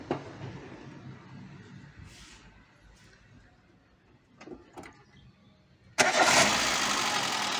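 After some quiet shuffling and a couple of clunks, a Peugeot 206 with a newly installed petrol engine cranks and catches abruptly, then holds a loud, steady, buzzing idle.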